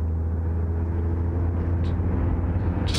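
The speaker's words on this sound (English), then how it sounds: "Just subtle sound of car, mixed with just kind of exhaust loop, and then also tire gravel." A layered sound effect blends a car's low engine hum, a looped exhaust drone and tire crunch on gravel into one steady rumbling bed, with a brief faint hiss near the end.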